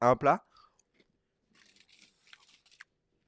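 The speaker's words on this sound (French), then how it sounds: "là, je viens d'en manger un bout. Je ne sais pas s'ils ont entendu dans le micro à quel point ça croustille" Crunchy garnish for a veal tartare and red cabbage risotto being chewed close to the microphone, a burst of small crisp crunches after a short voice at the start.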